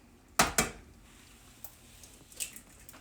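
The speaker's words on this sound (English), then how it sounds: "just crack that egg right in the middle" An egg is cracked against a hot pan: two sharp close taps in quick succession, followed by a few softer clicks and light sizzling clatter.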